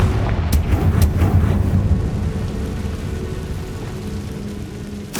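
The Confringo fire blast spell goes off in the wizarding game Hogwarts Legacy, a deep rumbling blast with sharp cracks that rolls on and gradually tapers into quieter ambience.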